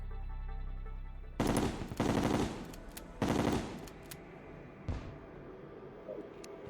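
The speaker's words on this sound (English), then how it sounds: "It's like an assault rifle, and it also shoots a homing bullet constantly." In the video game Terraria, a rapid-firing gun shoots homing chlorophyte bullets in several sharp, loud bursts of fast automatic fire, separated by short pauses and followed by a lone shot.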